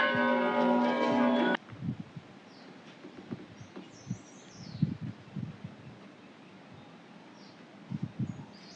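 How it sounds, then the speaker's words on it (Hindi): A bell at the Chitai Golu Devta temple rings with a bright, sustained metallic tone for about a second and a half and then cuts off, leaving faint rustling, bird chirps and soft handling noise nearby. "तो चितई देव गोलू मंदिर घंटियों से भरा हुआ है।"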